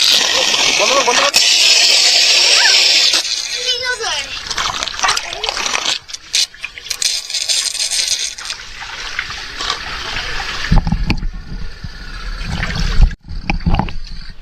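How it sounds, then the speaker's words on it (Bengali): Water rushes forcefully down a homemade rooftop water slide, a loud continuous splashing roar that later breaks into splatters and trickles, with people talking over it. "প্রচন্ড বেগে জল নিচে নামতে থাকে"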